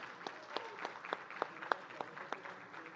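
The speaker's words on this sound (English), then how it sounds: "A louder cheer, guys." Audience clapping and cheering for two guests at a youth conclave panel, with a few sharp louder claps standing out above a steady patter, moderately distant.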